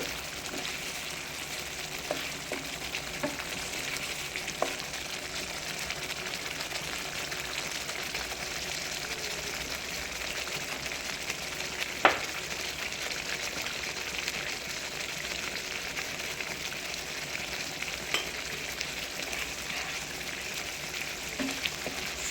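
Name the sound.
masala frying and being stirred in pan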